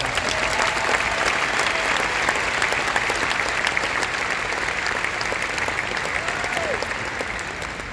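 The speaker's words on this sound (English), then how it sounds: "How about a round of applause for that?" Sustained applause from a large crowd at a graduation ceremony, dense and steady for the whole stretch, with a few faint voices rising through it.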